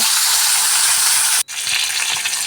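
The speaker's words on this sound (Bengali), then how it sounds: "তেলটা গরম হয়ে গেছে, এর মধ্যে আমি মাছের পিসগুলোকে ভেজে নেব।" Pieces of hilsa fish fry in hot oil in a wok, giving a loud, dense, steady sizzle that breaks off for an instant and then resumes at full strength, with no voices.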